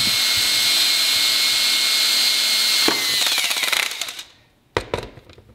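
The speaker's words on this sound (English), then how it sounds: "It's actually a 3/32 drill." A small 3/32 inch drill bit whines steadily as it bores into the spine ridge of a paddle, a continuous high motor drone running for several seconds before it cuts off, with a few short bursts after.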